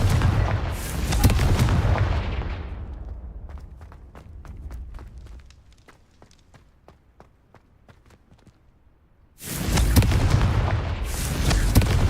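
A Confringo blasting spell smashes vases in a Hogwarts game: a loud burst of impact and crashing, then a stretch of scattered small tinkling debris settling, before another heavy blast erupts near the end.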